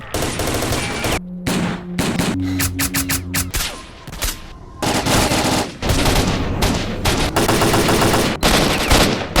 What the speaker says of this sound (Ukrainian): Не розумію, чого вони замінили деякі звуки зброї, які раніше звучали краще.